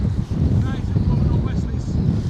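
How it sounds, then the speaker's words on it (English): Strong easterly wind buffets a microphone at sea off the UK coast during a fishing trip, a loud, continuous rumbling roar with gusty surges throughout. "that wind's picked up"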